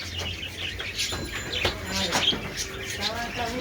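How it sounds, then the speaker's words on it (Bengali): Caged birds, pigeons among them, chirp and tweet inside a bird shop in Bangladesh, with bright overlapping calls and an occasional coo over a steady background hum. "দেখেন পাখির কিচির মিচির শব্দ করতেছে"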